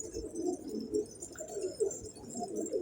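Pigeons in a loft with newly hatched squabs coo in soft, repeated low throaty phrases, close by and with no talk over them.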